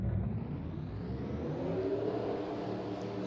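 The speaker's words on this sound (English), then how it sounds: "now let's get the cars rolling off" Race cars pulling away in an American Ethanol Series race at Hillside in a racing video game, a quiet steady whir of engines building under a faint rumble, with no talking.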